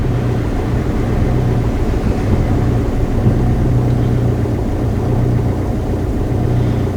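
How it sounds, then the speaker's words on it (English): A Ford Fiesta diesel engine idles close by with a steady, heavy low rumble, struggling and hunting with a lumpy, uneven throb and no voices over it. "It's really struggling, it's fighting,"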